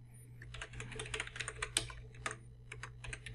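A name being typed on a computer keyboard: a quick, fairly faint run of light clicking keystrokes in an uneven rhythm, with a low steady hum underneath and no speech.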